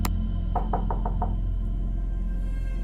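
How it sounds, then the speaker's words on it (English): Five quick, evenly spaced knocks on a door in a video game, fairly close and clear over a steady low hum. "I guess we're knocking on the door."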